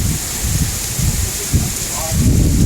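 Rain falling during a thunderstorm with wind gives a dense, loud outdoor wash and low rumbles. No clear speech is heard over it.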